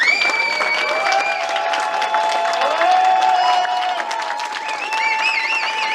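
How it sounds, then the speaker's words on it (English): A large crowd applauds and cheers in the pit lane after a GT Winter Series endurance race in Barcelona, a dense, steady roar of clapping with whistles and shouts rising above it. "Huge crowd down there in the pit lane. That's fantastic to see and to hear."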